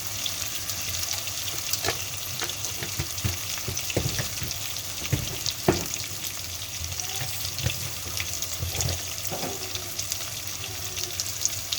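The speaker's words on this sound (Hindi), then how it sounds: "अब हम इस मसाले को अच्छे से भूनेंगे" Spiced tomato masala with red chili and turmeric frying in a pan, a steady close sizzle with scattered stirring scrapes and ladle clinks throughout, no voices.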